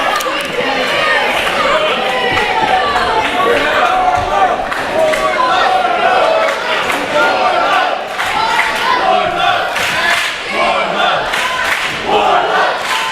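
A wrestling crowd roars steadily behind Wardlow during an IWC Heavyweight Championship Three Stages of Hell match against Jack Pollock, with dense continuous cheering and shouting throughout.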